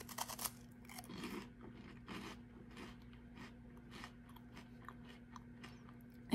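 Light, crunchy crackers being chewed close up, a run of crisp crunches and bites at an irregular rhythm, with a faint steady hum underneath and no talking.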